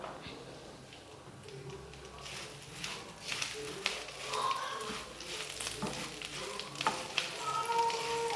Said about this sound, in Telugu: ఈ కరివేపాకు అయితే ఇప్పుడు ఫ్రై అయిపోయింది.